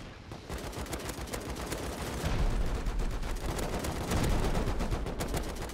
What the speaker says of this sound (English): He's shooting the turret